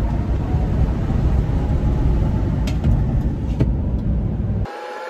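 A Nissan Titan truck cruises at highway speed on a test drive, giving a steady broadband road and engine roar with wind and tire rumble throughout, easing slightly near the end.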